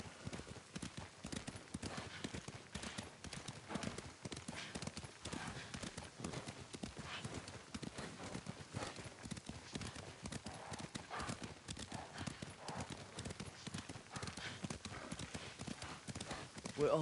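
Rapid rhythmic hoofbeats of galloping horses in the video game Ghost of Tsushima pound steadily throughout, with a faint whinny; voices speak over the clip-clop.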